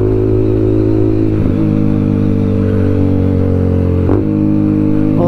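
An Apache RTR 200 4V motorcycle with a full-system exhaust runs loud in third gear around 5000 rpm, a steady harsh engine roar with two brief throttle blips, close and continuous.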